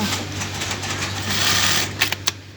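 A Rubel industrial sewing machine with a rotary hook runs steadily, its fast even stitching hum carrying throughout, with a few sharper clacks near the end.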